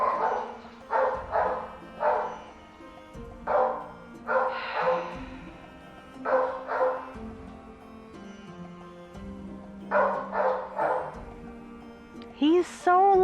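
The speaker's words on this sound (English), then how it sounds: "I literally have no idea what they're barking at." Several dogs bark in repeated bursts of loud, close yips and bow-wows, pausing and starting again over a steady low hum, with a high whine near the end.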